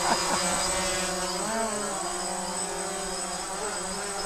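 A quadcopter drone hovers close by with a steady high-pitched rotor whine, its pitch shifting and dipping as it comes in to land on a table indoors; no talk, continuous throughout.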